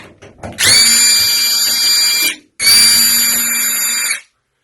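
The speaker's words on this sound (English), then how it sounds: "I've already taken the right one off, but I'll just remove these screws." A power drill runs in two sustained bursts, a steady high whine with a short pause between, as it backs screws out of a washing machine panel, loud and close with no talk.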